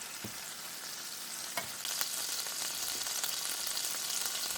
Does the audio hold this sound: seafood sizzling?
yes